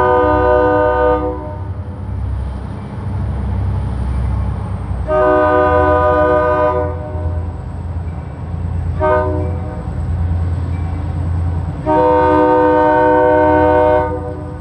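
Freight train hauling empty wood chip cars from a mill sounds its horn in four long blasts, loud and close, over a steady low rumble of rolling cars.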